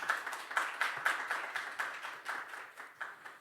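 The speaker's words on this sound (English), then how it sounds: "Please welcome him with a round of applause." Faint, thin clapping from an audience at a startup week conference, a scattered round of applause that rises briefly and then thins out.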